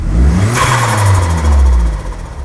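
SRT4 turbo engine swapped into a 1985 Dodge minivan revs loudly and close up, a deep roaring run with a rising whine, steady throughout without any talk.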